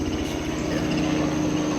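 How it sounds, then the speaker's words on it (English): Steady low rotor-and-engine rumble of a helicopter passing overhead, continuous and fairly loud with no talking. "You want to hold for that helicopter?"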